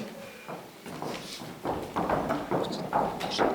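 Horse hooves clopping on the ground in an irregular walking rhythm, fairly close, mixed with some rustling and background noise.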